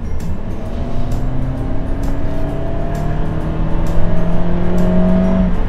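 A car with a 151 PS engine and CVT transmission accelerating, heard as a loud, steady engine drone whose pitch climbs smoothly for several seconds, heard from inside the car and not shifting through gears.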